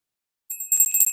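A bright bell sound effect marking a subscribe notification rings in quick repeated strikes after a short silence, clear and close with a shimmering metallic ring.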